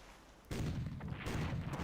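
Level bombers attacking in Panzer Corps, a World War II strategy game: after a quiet start comes a sudden heavy burst of booming explosions, rumbling on loud and dense with a second blast partway through.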